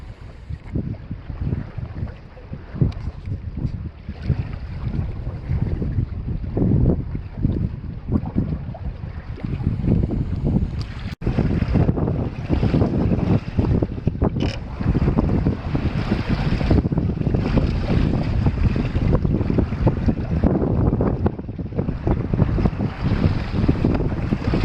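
A Drascombe Coaster sailboat sails across the wind off the Scottish islands near Mull and Lismore, with steady wind buffeting the microphone and water rushing and splashing along the hull throughout.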